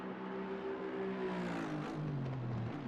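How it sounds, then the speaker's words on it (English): A GT3 race car engine in a racing video game at the Hungaroring drones steadily, its tone sliding up and down with gear changes and throttle, heard alone without any voices. "Only engine sound."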